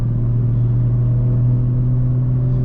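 A tuned BMW 340i with B58 engine and stage 3 transmission tune droning steadily from inside the car, a loud continuous low engine hum with little change across the moment.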